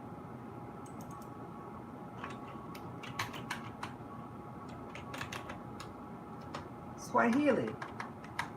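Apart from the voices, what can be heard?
typing on a device keyboard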